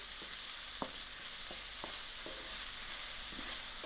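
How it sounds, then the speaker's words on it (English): Tomatoes and salt being stirred in a frying pan on a stove, with a steady soft sizzle underneath and a few sharp utensil clicks against the pan scattered through, close and fairly quiet. "I'll give this a nice mix and lower my stove"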